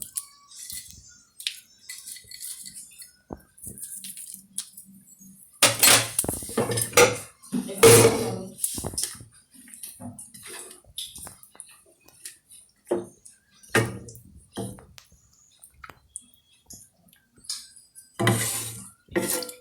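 Metal clanks and taps come from a pot of carrot halwa as a lid is handled and set on it, in scattered sharp bursts separated by quiet stretches, close and fairly loud.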